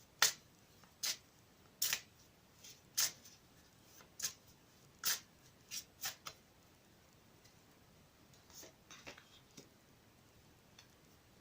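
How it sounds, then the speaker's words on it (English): A Dark Mirror Oracle card deck is shuffled by hand in short, crisp bursts of riffling and tapping, spaced about a second apart and close, in an otherwise quiet room. "I've already shuffled the cards, but I'm going to shuffle them again for you."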